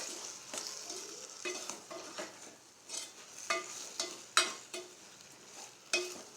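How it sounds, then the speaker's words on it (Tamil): Tomato brinjal pachadi is stirred in a pan: rhythmic scraping strokes, roughly one per half second to second, cut through a soft sizzle, with a few brighter clinks of the spoon against the pan and no voices. "நல்லா கிளறி விட்டுட்டு"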